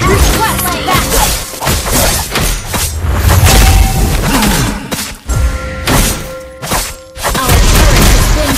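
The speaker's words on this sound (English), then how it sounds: "Our turret has been destroyed." A turret gets destroyed in the video game Mobile Legends, bringing loud crashing booms, shattering smashes and whooshes in quick bursts, with game voice lines layered over the chaotic battle noise.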